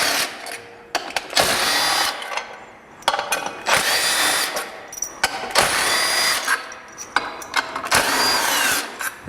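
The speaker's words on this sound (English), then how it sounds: "Take a 3/8 inch socket, take the screws out." A power tool fitted with a 3/8-inch socket spins screws out of a Polaris part in several short whirring bursts separated by brief pauses, close up and alone.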